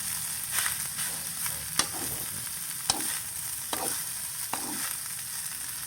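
Rice is stirred in a frying pan over a steady close sizzle, with a utensil scraping and knocking against the pan every second or so.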